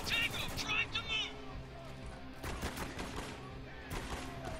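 Rapid gunfire rattles in the military shooter game Spec Ops: The Line, a fusillade of shots up close over a low background din.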